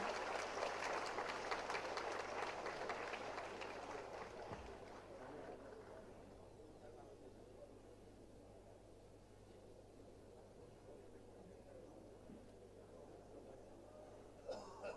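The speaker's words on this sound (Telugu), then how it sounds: "ఒకసారి గట్టిగా చప్పట్లు కొట్టి వారిని ఆహ్వానించారు" An audience at an Andhra Bank retired employees' association centenary celebration claps to welcome a speaker; dense applause fills the hall for about five seconds, then fades into a quiet room tone.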